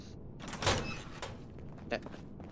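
A door swings shut with a solid thunk inside a run-down vault in Fallout 76, a single close impact followed by a lighter knock, heard amid game ambience and some talk.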